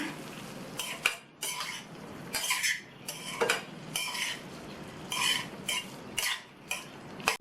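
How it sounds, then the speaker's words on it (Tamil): A spoon scrapes and stirs potatoes coated in masala inside a metal pan, giving repeated bursts of scraping and clinking with short pauses, close and fairly loud, with no talking. "2 நிமிஷத்துக்கு நல்லா இந்த மாதிரி கலந்து கொடுத்துட்டே இருக்கணும்"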